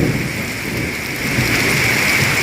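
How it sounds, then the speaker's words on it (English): Heavy rain pours steadily over a forested area in Singapore while a deep rumble of thunder rolls underneath, a dense continuous wash with no voices. "I can hear the thunder."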